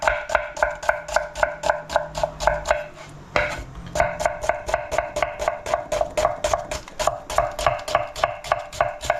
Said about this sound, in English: I'm just going to finely chop the onion